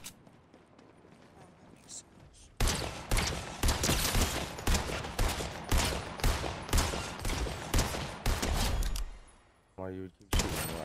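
Rapid bursts of gunfire in Fortnite, loud repeated shots in a steady rhythm after a quieter opening, with a short pause near the end before more shots.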